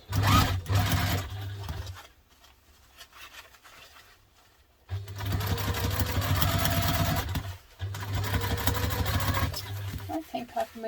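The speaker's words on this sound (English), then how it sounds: "we're going to just sew round, making sure to remove it around" A sewing machine stitches around a duffle bag in two long runs of steady mechanical whirring, near and fairly loud, split by a quiet pause and ending in a few clicks.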